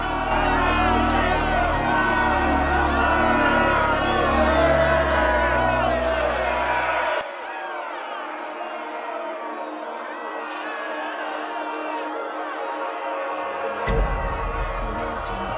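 A crowd shouts loudly in a Liberian short film, a dense roar of voices that drops away midway, leaving a thinner murmur before a brief low thump near the end.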